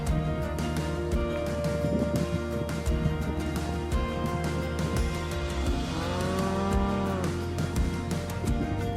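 Cattle on a ranch in British Columbia give a drawn-out low moo partway through, set against a steady droning background with occasional soft bumps.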